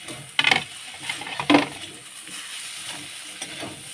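Tomatoes and fried mola fish sautéing in a pan, with two bursts of scraping and sizzling from a spatula stirring against the metal, then a softer steady frying hiss.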